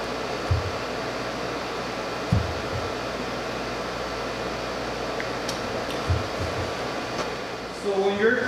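A plastic welding gun used on a car's front plastic bumper blows hot air in a steady, hair-dryer-like whoosh that runs throughout, close by, with a few soft low bumps.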